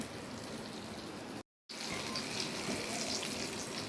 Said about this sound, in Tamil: இப்படி பொன்னிறமாக வந்த உடனே பொறிச்சு எடுத்துருங்க